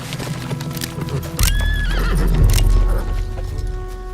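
Horses arrive with riders, their hooves clip-clopping loudly and close as one horse lets out a clear rising whinny partway through, with no speech over the hoofbeats.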